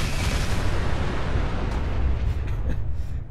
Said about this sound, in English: Let's shoot that exploding barrel over there.